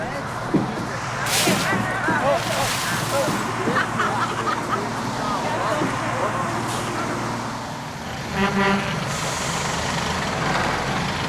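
A big truck drives along a road in Sri Lanka, its engine rumbling steadily with passing traffic, a hiss like an air brake and a short run of beeps, with voices talking over it.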